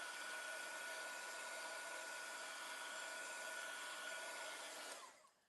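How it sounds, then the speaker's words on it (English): A craft heat tool blows with a loud, steady hiss and whine while drying a stamped card, running continuously for about five seconds before switching off and fading out. "let's zap that with the heat tool"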